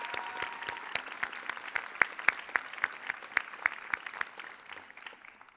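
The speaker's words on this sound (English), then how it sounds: "Please join me in giving her a round of applause." Steady audience applause at a university undergraduate honors convocation, a dense patter of clapping hands lasting several seconds with sharper individual claps standing out, then thinning toward the end.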